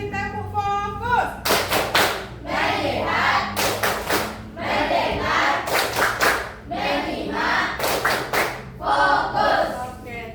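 Classroom of children performing a focus clap rhythm, crisp groups of synchronized hand claps repeating in steady bursts, with brief chanting voices between them.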